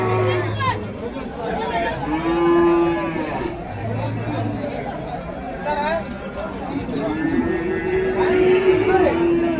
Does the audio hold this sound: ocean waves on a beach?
no